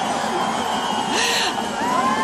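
Spectators at the Binche Mardi Gras carnival shout and cheer together, a dense, loud crowd roar full of children's high calls and whoops, with voices layered throughout.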